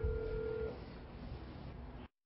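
A ringing tone on a phone call to the Jeju fisheries cooperative: one short ring tone over line hiss, then the hiss runs on before cutting off abruptly.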